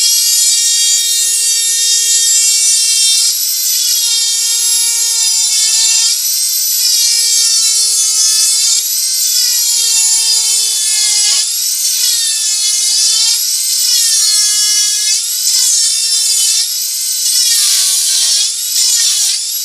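A Dremel 4000 rotary tool with a burr carves a wood spirit, a loud, high, whining buzz close up whose pitch dips and recovers repeatedly as the bit bites into the wood and eases off.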